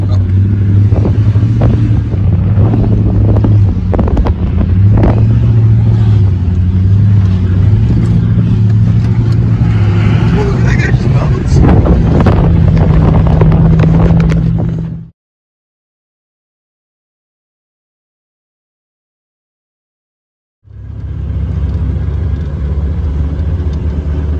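A worn 4Runner cruising in low range at about 20 mph while towing another vehicle on the sand dunes, giving a steady loud engine drone with wind buffeting, a silent gap midway, then the drone resumes.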